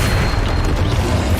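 A spell explosion from Hogwarts Legacy booms loudly and continuously, a dense, rumbling blast with crackling bursts throughout the short moment.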